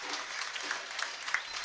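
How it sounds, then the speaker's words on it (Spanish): Spectators in the stands at an amateur regional football match between Guarani A. Franco and La Picada applaud a standout player, a soft, somewhat distant patter of clapping from a modest crowd. "Y los aplausos que caen de la tribuna para el partidazo que hizo este señor."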